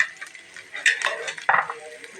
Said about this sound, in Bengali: এই তো সুন্দর মতো মশলাগুলো আমি নেড়ে নেব।